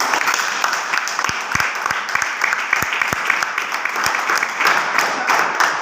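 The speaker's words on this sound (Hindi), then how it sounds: "एक बार शानदार तालियां हो सकती है" Audience applause at a Modicare sales training session, steady clapping from a group with a few sharper, closer claps standing out above the mass, continuous for the whole stretch.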